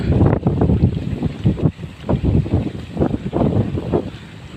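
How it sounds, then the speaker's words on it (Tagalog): Strong northeast monsoon wind at the sea roars and buffets the microphone in heavy surging gusts, loud and close with low rumbling pulses and no talk. "Malakas ang amihan."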